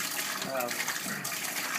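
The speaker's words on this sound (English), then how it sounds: "The machine's going to turn on when you divert the water." A Living Water ionizer machine dispenses a steady, close stream of water, a constant broadband rush and splash that stays even throughout, with a faint voice briefly murmuring underneath.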